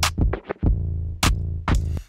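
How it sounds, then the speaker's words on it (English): A short turntable-style scratch effect breaking up a drop in a hip hop beat for Yung Baby Tate's "Eenie Meanie," with quick bursts cutting over punchy drums and a deep, sustained 808 bass. "So that little scratch there is just kind of to break up this drop."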